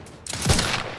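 Video game gunfire from The Outer Worlds 2 bursts out as a short, loud volley of shots, with a heavy low thump at its peak and a quick rattling tail.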